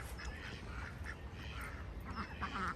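Several ducks quack repeatedly in short, scattered bursts over a steady low background rumble.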